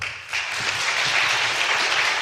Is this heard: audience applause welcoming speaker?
yes